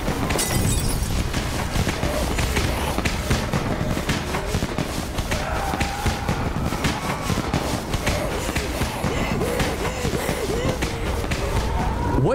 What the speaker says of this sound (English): It just got up here somehow, dove over, and just smashed itself into the wall and, like, destroyed its own head.